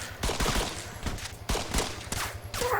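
Rapid gunfire in the video game Arma III, loud repeated shots forming dense bursts over a steady droning background, with a few pauses between volleys.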